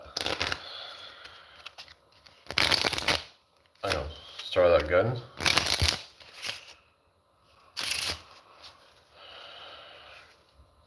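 A deck of playing cards is riffled and bridged in several quick bursts separated by pauses, close and crisp, while someone talks between and over the shuffles.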